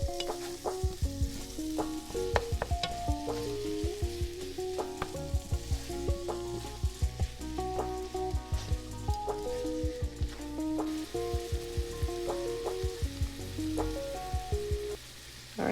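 Minced meat browning in a hot pan, a steady crackling sizzle dense like rain, punctuated by regular sharp clacks and scrapes of a utensil stirring and breaking it up, close and continuous.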